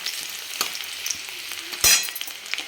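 Chopped garlic sizzles steadily in hot oil while frying to golden, with a continuous crackling hiss, a few soft stirring scrapes and one brief louder burst near the end.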